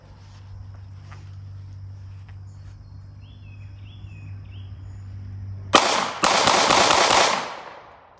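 A Glock 43 pistol emptied in a rapid magazine dump at 7 yards on a range, loud, sharp shots fired in quick succession over about a second and a half, following a quiet stretch with a faint insect-like hum.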